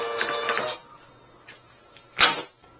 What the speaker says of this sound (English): Alright, Dave, you're going to get your free key tag with the first print off the label printer.